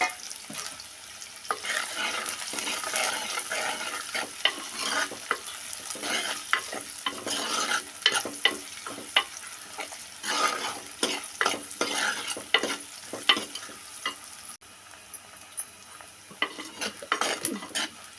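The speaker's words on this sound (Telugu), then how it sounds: "ఇప్పుడు తరిగి పెట్టుకున్నాను ఉల్లిగడ్డలు వేసుకుంటున్నానండి" Chopped onions frying in a pan as a tempering for buttermilk majjiga charu, bursts of crackling sizzle with frequent metal spoon scrapes and clinks against the pan, close and busy throughout.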